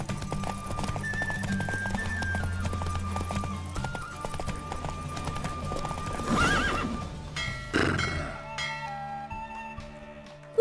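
A horse gallops with rapid, rhythmic hoofbeats in The Witcher 3, with game music playing underneath. Two loud neighs break through partway along before the hoofbeats drop away.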